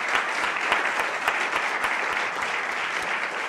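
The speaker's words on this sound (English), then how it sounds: "A round of applause for all 6 of our candidates, please." Audience applause for six state assembly candidates at a political debate, a dense, even wash of many hands clapping that holds steady at a moderate distance with no voices over it.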